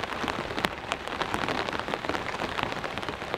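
Steady rain pours during a storm at an off-grid cabin, a dense, continuous patter of drops striking surfaces close by, with no voices.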